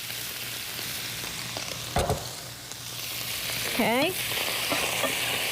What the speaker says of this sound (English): now I'm gonna add my rice. My cauliflower rice.